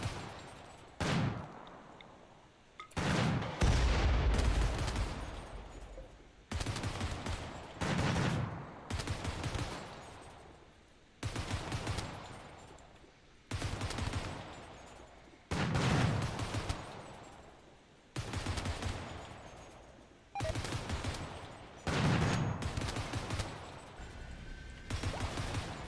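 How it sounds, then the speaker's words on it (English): Sustained machine gun fire in a video game battle, long loud bursts repeating almost continuously with brief pauses between volleys, close and dominant with no talk. "Just let Bonnie machine gun them to death."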